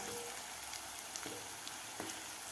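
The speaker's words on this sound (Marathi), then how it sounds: "कांदा एक मिनिटभर मी परतून घेतलेला आहे यामध्ये घालायचा आहे कडीपत्ता" Curry leaves drop into onions frying in a pan for a pigeon pea curry, giving a steady close sizzle with faint crackles and light stirring taps, no talk.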